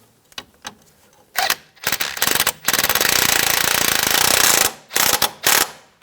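Bolt on a 2004-2009 Toyota Prius front strut bracket being tightened, with short ratchet bursts giving way to a long, loud, continuous mechanical rattle, then two more brief bursts.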